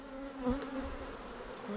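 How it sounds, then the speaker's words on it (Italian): Honey bees buzz steadily around an open hive box at an apiary, a close, continuous droning hum with a slight swell partway through and no voices. "api ce ne sono tante"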